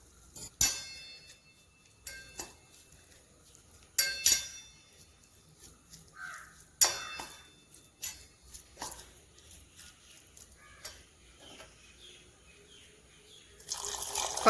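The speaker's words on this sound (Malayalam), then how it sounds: "ഇനി കുറച്ച് വെള്ളം ചേർത്ത് മിക്സ് ചെയ്തെടുക്കാം" Water poured into a cauliflower fry batter of salt, asafoetida and washed sesame seeds, then mixed: scattered close clinks, drips and spoon scrapes in a quiet kitchen, with sharper knocks near the start and a louder burst at the end.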